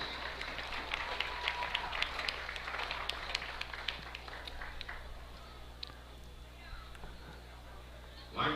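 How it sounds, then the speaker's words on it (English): A crowd in the stands at a high school football game applauds senior cheerleaders, scattered clapping heard from a distance over a low steady hum, gradually thinning out toward the end. "Just give them a big round of applause."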